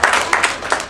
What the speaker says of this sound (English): give Patrick a nice round of applause for coming